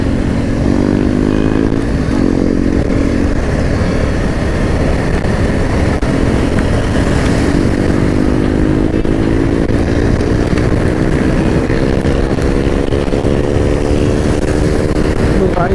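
A motorcycle engine runs steadily and loudly up close throughout, its hum easing lower as the bike slows down on a road, with a faint voice talking over it.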